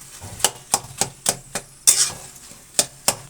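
Eggplant pieces fry in a pan of oil, with a steady sizzle beneath a series of sharp, close clinks and scrapes from a spoon stirring them, about eight evenly spaced strikes.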